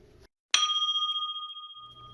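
A single bright bell ding rings out clearly after a brief silence, its metallic tone sustaining and slowly fading over about a second and a half.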